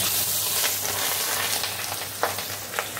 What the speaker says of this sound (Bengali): এবার আমি মাছগুলো ভেজে নেব তেলটা গরম হলে।